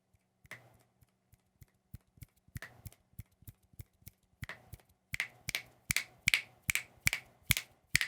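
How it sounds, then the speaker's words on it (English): Finger snaps in front of a microphone, first sparse and quieter, then a steady run of sharp, close, loud snaps at roughly half-second intervals, with no talking. "start turning it up while I'm snapping my fingers in front of the new microphone"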